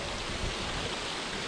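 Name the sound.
water running in a hill stream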